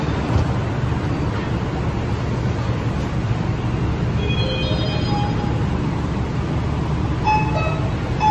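A metro train at Wanxia Metro Station in China rumbles along in a steady, loud, broadband roar, with faint high tones and squeals rising above it now and then, and no voices.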